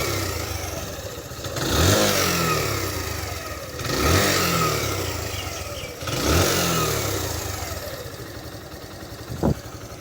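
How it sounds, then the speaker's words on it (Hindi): A Suzuki GSX125 125cc motorcycle engine revs up three times in steady bursts, each rising and falling back to a rough idle, loud and close, with a sharp click near the end. "और ये इस मोटरसाइकिल की कुछ साउंड है।"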